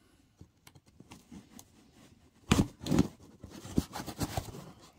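A cardboard shipping box containing a live rainbow trout is cut open by hand, giving scattered scraping and tearing bursts that grow louder and denser midway, close and alone with no talk.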